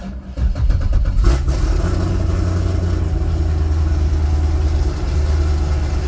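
A Chevy GM LS7 V8 cranks briefly and catches, then settles into a loud, steady, rumbling idle close by with no talk over it.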